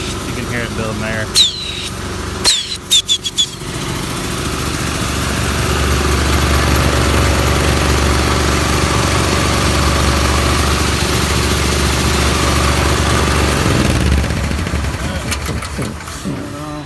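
An air compressor runs on a 2014 Dodge Ram 4500 mechanics service truck carrying a crane and welder. A few sharp clanks come first, then a steady low engine-like drone builds and holds close by before easing off near the end.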